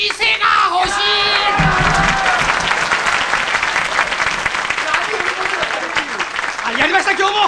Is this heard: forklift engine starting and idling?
no